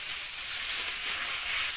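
Water hits hot oil in a pan of browned mutton curry with potatoes, giving a steady loud sizzle and hiss that continues without a break.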